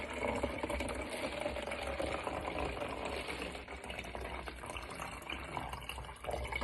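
Water runs steadily into a container for several seconds during a hands-on filling, pouring and measuring activity, a continuous close splashing trickle with no talk.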